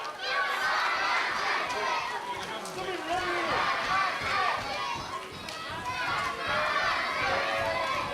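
A wrestling arena crowd before a six-man tag team match roars and cheers continuously, loud and dense, with a commentator talking over it.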